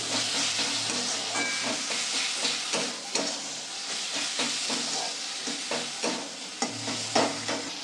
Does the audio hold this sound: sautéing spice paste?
yes